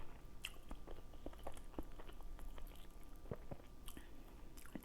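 Close, wet chewing and biting of a mouthful of homemade egusi with seafood and spinach, a steady run of soft crunches and squishy smacks filling the whole stretch with no talking.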